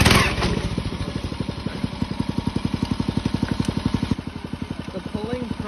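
A small engine on a monorack rail cart at an orange farm in Japan chugs with a fast, even thumping beat, close and steady, easing slightly in the last second, while a person talks over it.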